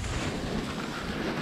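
Outdoor wind on a farm buffets a microphone in a steady, loud rumbling roar for the whole stretch, with no voices heard.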